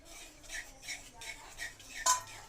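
A spoon scrapes and clinks rhythmically against a pan while yogurt is stirred quickly into spice masala, several short strokes in a row with one sharper metallic tap near the end.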